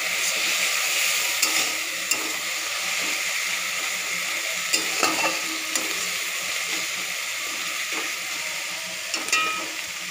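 A continuous sizzle of spice paste frying for a spicy yogurt chicken curry, with a few sharp utensil taps and scrapes breaking through the even hiss.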